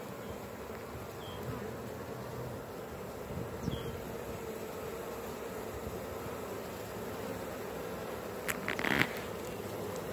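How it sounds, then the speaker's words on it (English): A honeybee swarm buzzing around a hive box, a steady dense hum that runs the whole time, with a few brief louder rustles and knocks near the end. "This bee right here is doing a great job fanning."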